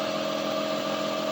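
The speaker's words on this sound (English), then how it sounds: "The compressor, got it building some air for the plasma cutter." Air compressor running steadily to build pressure for a plasma cutter in a derby car workshop, a constant mid-pitched motor drone with a strong steady hum, close and unbroken.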